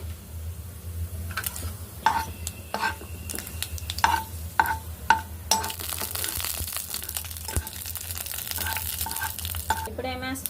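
Mustard seeds and urad dal crackle in hot oil in a wok, sharp pops and spits scattered over a steady low hum, with a stirring scrape near the end and faint voices in the background.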